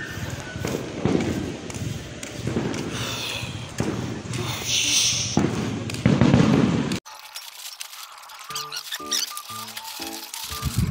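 Firecrackers and fireworks go off during a night walk in Malolos, a dense crackling barrage of sharp pops and bangs, loud and close, before an abrupt cut to quieter street sound with a few scattered thuds and distant voices.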